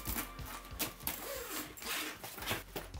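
A bag zipper forced open by pressing a pen against its links gives a busy run of rapid, close clicking ratchets over about three seconds.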